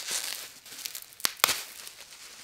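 Plastic packaging crinkles and tears as a Spider-Man figure is unwrapped, soft rustling throughout with two sharp crackling rips near the middle, close and fairly quiet.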